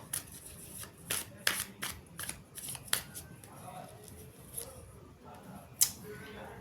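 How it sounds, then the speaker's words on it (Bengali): Tarot cards being shuffled and drawn, a series of soft papery flicks and slaps, close and fairly quiet. "সো চলো নেক্সট কার্ড নেব"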